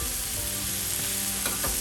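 Pork sausage and bacon sizzle on a hot barbecue griddle, a dense, steady crackling hiss with a couple of brief scraping stirs near the end.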